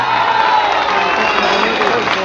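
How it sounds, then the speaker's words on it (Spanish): A live concert crowd on Calle Larga cheers, whoops and applauds for the band, a dense, loud, steady roar of mixed voices and clapping that holds for the whole stretch. "¡Fuerte el aplauso para ellos!"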